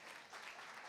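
A church congregation claps together in a brief, soft wash of applause, heard faintly from a distance.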